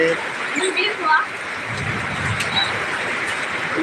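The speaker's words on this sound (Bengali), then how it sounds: "বাতাস হচ্ছে এবং শিলা বৃষ্টি হচ্ছে" Heavy rain pours steadily during a Kalbaishakhi storm with hail and strong wind, a dense continuous hiss, while someone talks over it.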